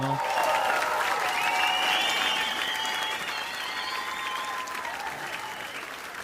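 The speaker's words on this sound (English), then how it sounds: "Let's have some applause, guys." Applause welcoming a guest on a podcast, an even wash of clapping with some crowd murmur, moderately loud at first and easing slightly toward the end.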